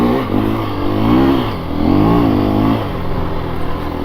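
A 2024 KTM 350 EXC-F four-stroke dirt bike engine revs close up while being ridden, pitch rising and falling through two long pulls with a steady idle-like drone between.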